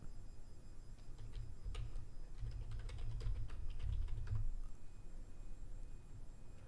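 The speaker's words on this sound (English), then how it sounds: "If you do hear me typing" Quick, irregular keystrokes on a computer keyboard, close and fairly soft, clattering in short bursts over a low background hum.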